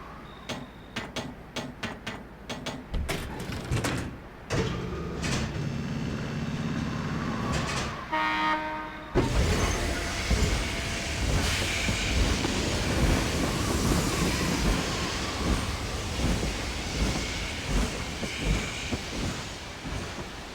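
A train in the video game Dark Cloud 2 rumbles and clatters steadily at close range, with sharp mechanical clicks and a hissing release at the start, then a continuous rolling roar.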